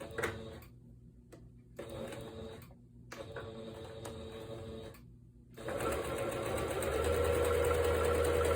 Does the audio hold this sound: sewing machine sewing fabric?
yes